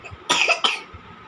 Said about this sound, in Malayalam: ചുമ വരുന്നുണ്ട് മോളെ